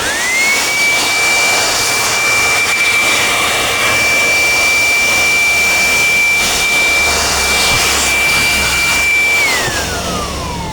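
A brand-new electric air blower blasting dust out of a decade-old desktop PC, a loud, steady high-pitched whine that holds for about nine seconds and then winds down.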